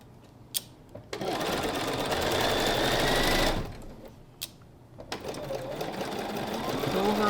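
A sewing machine stitches slowly over the seams of a quilt block in two close, steady whirring runs, with brief clicks before, between and after the runs.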